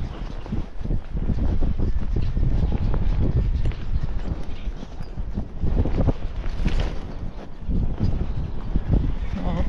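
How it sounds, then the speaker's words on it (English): Gusty wind buffets the microphone outdoors in uneven rumbling surges, loud and low, with no voices. "It's a little cold today and it's windy."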